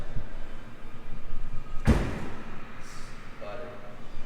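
A guillotine-style door on a 2006 Ford GT swings down and shuts with a single solid thud, followed by a faint latch click, over low background chatter.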